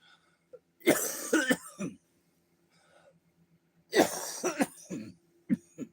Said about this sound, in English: coughing fit before I start.